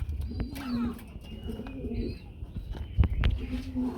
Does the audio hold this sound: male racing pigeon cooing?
yes